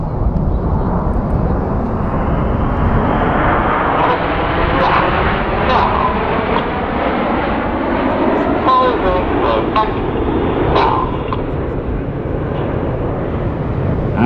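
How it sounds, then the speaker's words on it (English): Red Arrows jets roar through a formation pass at an airshow, a broad sustained rumble and whoosh that swells and shifts as the aircraft sweep by, with a commentator's voice over the public address. "Red 1 leading the aircraft down, about to twist them to the left for the Signet pass"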